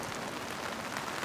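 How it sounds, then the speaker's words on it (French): Steady monsoon rain pours down in India, a dense, even hiss of drops on surfaces with no pauses, fairly close and continuous, with no one talking. "Il tombe une pluie précieuse. Une merveilleuse pluie de mousson."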